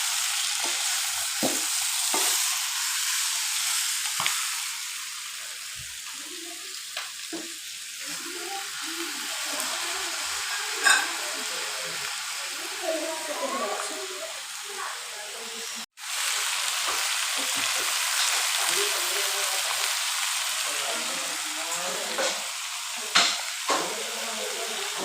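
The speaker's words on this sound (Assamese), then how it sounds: "জুইত বনোৱা মাংস খাই সোৱাদেই বেলেগ।" Local chicken meat fries over a wood fire, a steady close sizzle broken by scraping, clinking stirs of a spatula and occasional sharp crackles, running on without pause.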